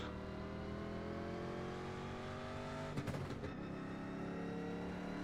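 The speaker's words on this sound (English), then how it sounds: "Love the sound of these cars." Legends race cars drone steadily at Talladega, a dense, constant engine roar with a brief rattling burst partway through, and no talking.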